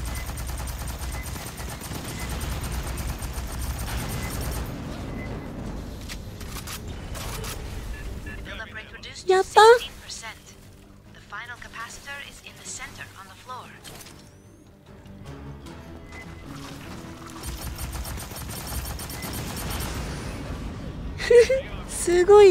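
Bursts of gunfire and explosive blasts from the video game Aliens: Fireteam Elite, with sharp loud peaks scattered through the clip over constant background noise and talking.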